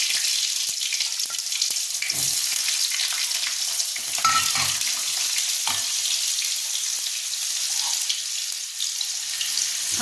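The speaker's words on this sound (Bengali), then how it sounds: "মধ্যে আমি গোটা জিরে ফোড়ন দিয়ে দিলাম আর আলুগুলোকে দিয়ে ভেজে নেব।" Potatoes fry in hot oil with whole cumin seeds, giving a bright, continuous sizzle close by, with scraping stirs and occasional soft clinks over the hiss.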